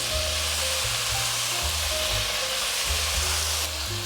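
Tomatoes and carrots sizzle and hiss loudly in a hot pan as they are stir-fried, with a constant close crackle and the low scrape of repeated stirring strokes.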